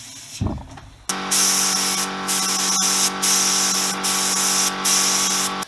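A spray gun applying primer coats to a Honda CB125S fuel tank during restoration: close, loud bursts of hissing spray in repeated passes with brief pauses, after a short stretch of quieter handling noise.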